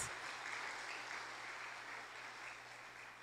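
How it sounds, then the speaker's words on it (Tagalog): A church congregation applauds during a sermon, a steady wash of many hands clapping at even loudness for the whole stretch, with no voices standing out. "Palapakan natin ang ating Panginoon."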